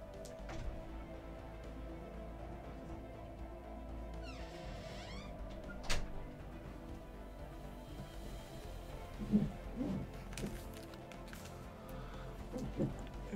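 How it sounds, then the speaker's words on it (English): An indoor pet cat meows to be let out of an office. A few soft meows sound under a steady background hum, with faint clicks and scattered quiet noises through the room. "Cat is making a nuisance out of herself, she wants out."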